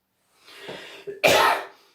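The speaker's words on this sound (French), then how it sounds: "je vous prie d'excuser encore une fois ma toux qui est persistante" A single close cough, preceded by a brief breathy throat sound, sharp and loud, then fading into quiet.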